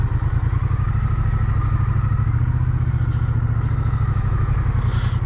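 Triumph Bonneville T120 classic motorcycle filtering through traffic, its engine thrumming close and loud with a steady low pulsing beat under rider-mounted recording.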